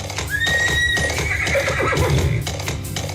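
A horse neighs loudly in a radio advert, a long rising whinny followed by snorting, with faint clip-clop and a low music bed underneath.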